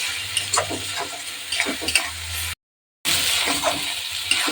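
Spice paste sautéing in a pan for taro leaves with prawn paste: a steady close sizzle with scraping stirs, cut by a short silent gap partway through before the frying resumes.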